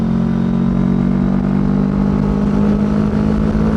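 A 2020 CFMoto 400NK motorcycle engine pulls hard and loud under steady throttle while overtaking, a constant strong drone heard up close from the rider's position.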